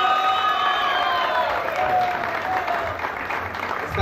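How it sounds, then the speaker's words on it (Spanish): Audience applause for Anita Viernes at a family gathering, a full steady clapping with some crowd noise, fairly loud and continuous for several seconds. "fuerte el aplauso para ella"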